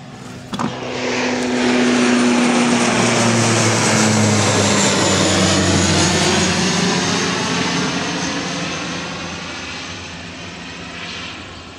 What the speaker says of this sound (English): I think that was the NavCan plane.